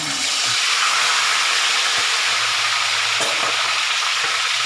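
Tilapia fries in a pan with a loud, continuous sizzle and hiss of hot oil, steady throughout and close up, with faint clinks underneath.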